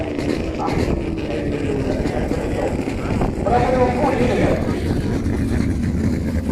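Racing speedboat powered by a Toyota 5K engine, a loud continuous engine roar mixed with wind buffeting at close range, swelling slightly midway, while a commentator talks over it.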